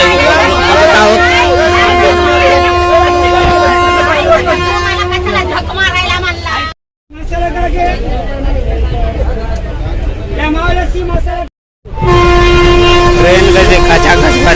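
A crowded passenger train on a long journey rumbles steadily, with loud rail noise, a sustained horn-like tone and a constant babble of passengers talking nearby, broken by two brief dropouts.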